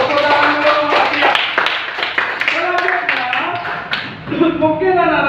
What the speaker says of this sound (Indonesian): Tepuk tangan dulu Atia.